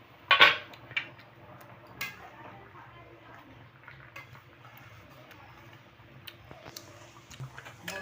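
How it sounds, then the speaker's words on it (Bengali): A lid is lifted off a cooking pot of fish roe curry with one sharp metallic clank at the start, followed by faint clinks over a low kitchen hum. "আমি এবার ঢাকনাটা তুলে নেব"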